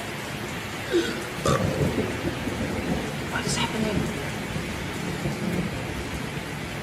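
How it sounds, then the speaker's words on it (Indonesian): Rain falls steadily in a thunderstorm during the rainy season, with a couple of sharp thunder cracks and rumbles rising over the constant hiss of rain while people talk in the foreground. "Mendung ya. Petir nih."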